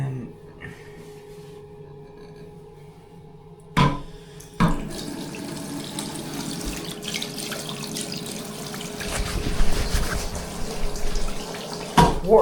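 Tap water runs at a campsite washroom sink in a boatyard motorhome aire during handwashing, a steady broadband rush with a few clunks and splashes, moderately loud, no talk.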